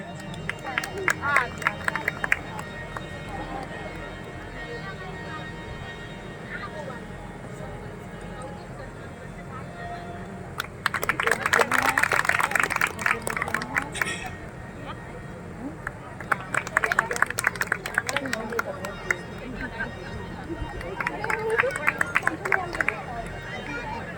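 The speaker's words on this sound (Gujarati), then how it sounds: "સન્માનને તાળીઓથી વધાવવાનું છે" An audience at a temple festival honouring ceremony breaks into bursts of applause, three loud rounds of clapping separated by quieter crowd murmur and babble.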